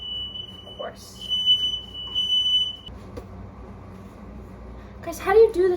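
A shrill kitchen smoke alarm tone sounds for a couple of seconds then stops, with someone cooking doubles, speaking and handling things around it.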